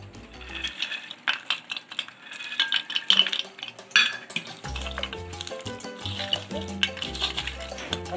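A spoon stirs peanuts into gram flour batter in a bowl, scraping and clinking against the sides in an uneven rhythm, close and fairly loud, with some wet mixing noise.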